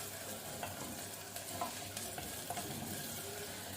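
Onion cooks slowly over low heat in a clay handi, making a soft continuous sizzle broken by gentle stirring scrapes and small pops, close and fairly quiet, with no speech.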